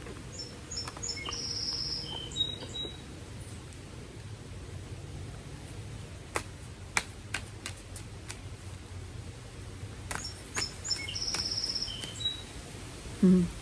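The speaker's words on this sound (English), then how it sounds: "I love listening to the birds." Faint birds chirp in short bursts over a steady outdoor hum of insects, with a few sharp clicks scattered through the middle.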